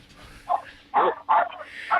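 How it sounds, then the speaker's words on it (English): Several dogs bark in short, loud bursts at close range outside a house during a doorstep visit, four sharp yips and woofs spaced unevenly over a couple of seconds. "all the dogs go crazy"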